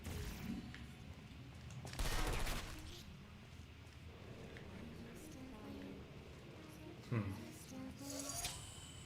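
Automated turrets in the Portal 2 video game fire sharp bursts of gunfire, a loud volley near the start and a couple more later. Voices speak between and under the shots.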